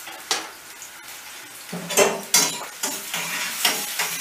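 Peppers and tomatoes frying for menemen are stirred in a pan, giving a quiet sizzle broken by repeated scraping strokes of a utensil at an irregular rhythm.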